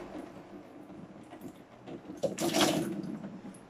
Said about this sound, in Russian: Я подставила ведро и сейчас откручиваю вот эту крышку нижнюю.